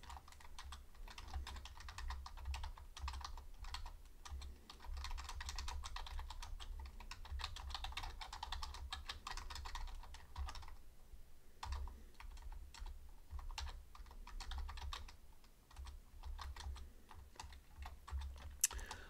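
Steady typing on a computer keyboard, with quick continuous key clicks that pause briefly now and then. The sound is quiet and close, and no one speaks.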